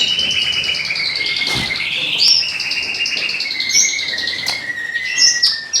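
Native finches in a breeding birdroom chirp and twitter continuously, bright overlapping calls close by, with a steady busy chorus of small birds and no talking.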